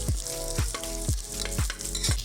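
Onions frying in a pan for turkey biryani at a village cooking spot, a steady close sizzle with four or five regular stirring scrapes at about half-second intervals.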